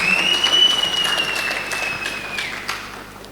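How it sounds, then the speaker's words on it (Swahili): An audience at the launch ceremony of Sky International TV in Dodoma applauds with steady clapping that gradually fades, while a faint whistle or feedback tone runs beneath it. "Kwa hapa naomba tuwapigie makofi wale wadau wote ambao nimewataja."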